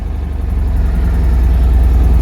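A Citroën 2CV's small engine idles steadily just after starting, a close, loud, even low putter that continues without pause.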